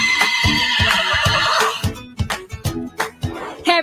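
A horse at an agricultural show in Bermuda gives a loud, close whinny, followed by a series of short snorting pulses and what sounds like light hoof clops.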